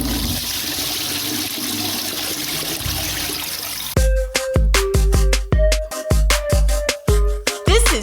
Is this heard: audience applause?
no